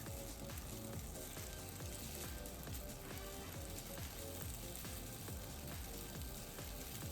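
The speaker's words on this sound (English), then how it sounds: "Now grill them on low heat. Cover with a lid and grill for 1 to 2 minutes." Chicken skewers, yakitori and tsukune, grilling over low heat under a lid, giving a steady close crackling sizzle with dense popping spatter throughout and no voices.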